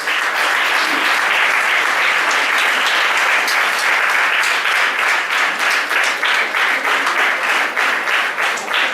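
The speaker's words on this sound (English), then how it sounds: "Let us give a great round of applause." Conference audience at St Justin's College of Education breaks into loud, sustained applause, a thick roar of many hands clapping close and steady that thins slightly toward the end.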